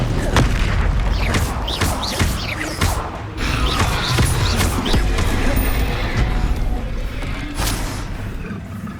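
Bombarda explosion spells in the Hogwarts Legacy video game go off as loud, repeated booms and crashes amid constant combat noise, with heavy low thuds spread through the stretch.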